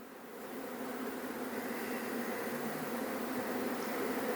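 Honeybees at an apiary give a steady, even buzz that holds for the whole stretch, a dense hum with no voices.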